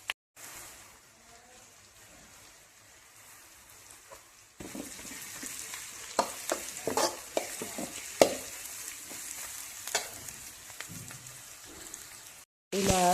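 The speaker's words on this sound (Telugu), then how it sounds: "ఇలా దొండకాయ వేసి కొద్దిసేపు బాగా వేగనివ్వాలి" Ivy gourd (dondakaya) pieces frying in a pan, a soft sizzle that turns into crackling pops and scraping stirs as the pieces hit the oil, ending in an abrupt louder burst.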